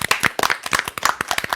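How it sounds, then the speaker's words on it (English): Quick, dense clapping from a small audience after a comedic stage play, a brisk close flurry of hand claps with no voices over it. "For the moment, dear spectators, clap with vigor."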